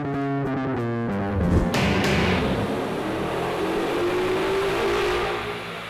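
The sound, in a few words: 2011 Mustang GT engine revving on dyno run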